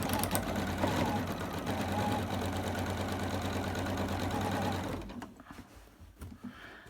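An overlocker runs binding through at a steady, fast mechanical whir for about five seconds, loud and close, then stops and leaves quieter handling noises.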